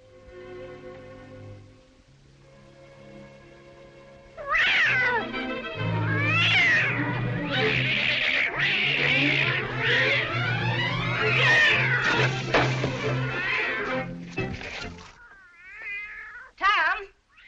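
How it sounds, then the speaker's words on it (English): A cat meows and caterwauls loudly and insistently in a domestic scene, long strained yowls rising and falling over several seconds after a quieter stretch with faint background tones. "What on earth ails that cat?"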